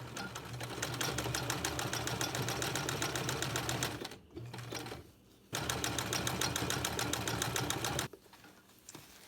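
A sewing machine stitches a buttonhole in Warm Window insulated backing for a Roman shade, running in fast steady bursts with short pauses between steps, loud and close, with no talking.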